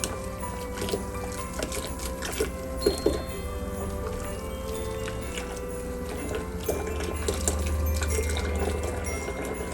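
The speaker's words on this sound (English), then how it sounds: "Give it a good rinse." Water runs steadily from a tap over plastic model kit parts being rinsed, a continuous close wash with small splashes and knocks.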